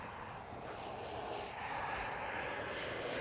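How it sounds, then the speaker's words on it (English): A private fixed-wing plane flies low overhead, its steady engine drone swelling slightly louder midway and holding as a continuous broadband roar outdoors. "there's a plane coming up, and it's actually flying pretty low"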